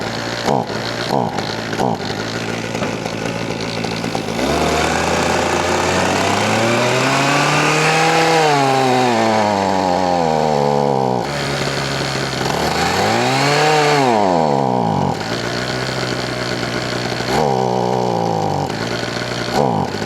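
A Redmax HTZ2460 hedge trimmer two-stroke engine, due for a tune-up and struggling to stay running at full throttle, revs loudly and close, rising and sagging in pitch with surging, uneven throttle swells and brief drops.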